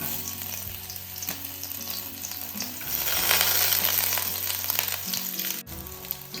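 Garlic dropped into hot oil for rasam, giving a loud, dense, continuous sizzle that swells midway, heard close with no talking.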